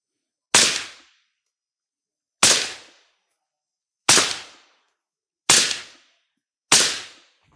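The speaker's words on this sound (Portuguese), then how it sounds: "5 disparos de M193 comum da CBC" Five CBC M193 rounds fired from a suppressed 5.56 rifle at a range, each a sharp loud crack with a quick decaying tail, spaced about one and a half seconds apart, with no talk.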